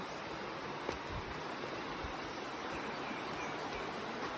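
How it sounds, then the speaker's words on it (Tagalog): Steady rushing water of a river flowing continuously in Tayabas, Quezon, a broad even wash of noise like a stream running over rocks, with no voices. "Dito na kami sa ilog, pababa na kami."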